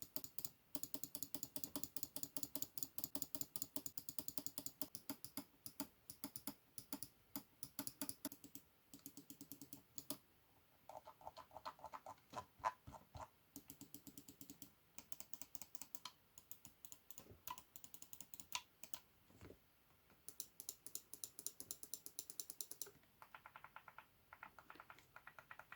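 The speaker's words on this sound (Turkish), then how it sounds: "O zaman bu mouse'umuza bir ses testi yapalım." Clicks from a Motospeed V200 gaming mouse with Omron micro switches, tapped in fast rhythmic bursts with short pauses, close and crisp with no talking.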